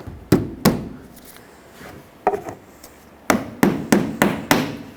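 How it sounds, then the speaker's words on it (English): Push clips snapped one after another into the radiator support of a 2007-2010 Chrysler Sebring, a string of sharp, close plastic knocks spaced irregularly, with a quick cluster of snaps near the end. "we can put in all of our push clips going from one side to the other"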